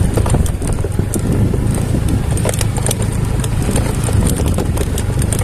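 A motorcycle engine runs steadily and loudly, with constant rattling and clattering from bumping over a rough, dried-out reservoir bed during a long drought.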